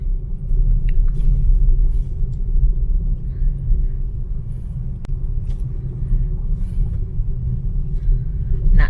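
A vehicle rolls along a rough road in Barangay Ilaya, giving a steady, close low rumble with faint rattles and small knocks scattered throughout.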